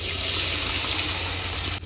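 Water pours steadily into a pan of frying shrimp with a hissing rush, stopping abruptly at the end.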